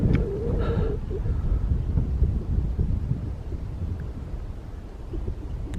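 Steady breeze buffets the microphone in an open mountain pasture, a continuous low rumbling wind noise with gentle gusts and no voices.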